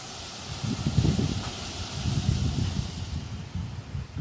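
Strong, damaging July wind gusts thrash through a Japanese Katsura tree, a loud rushing rustle of leaves that swells and eases in waves with low microphone buffeting.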